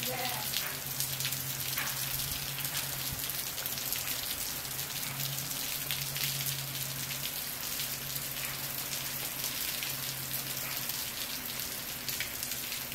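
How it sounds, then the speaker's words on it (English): Heavy Florida rain pours down onto surfaces outdoors, a loud, dense, steady hiss of drops that never lets up, with a low hum underneath. "Ah, proper Florida rain this."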